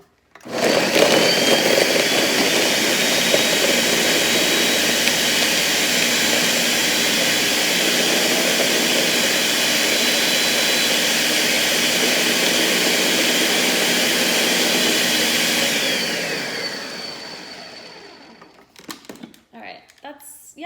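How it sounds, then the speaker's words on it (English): A kitchen blender whirs loudly and steadily while blending an acai smoothie, running for about fifteen seconds before winding down to a stop, followed by faint handling noises. "So let me blend it up."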